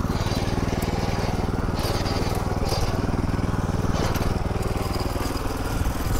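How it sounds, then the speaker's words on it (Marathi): A Dfarm mini power weeder's small engine runs continuously at a steady, loud, buzzing pace throughout, close by, with no talking. "चेतन सर, मी तुम्हाला मशीन चालवून दाखवली"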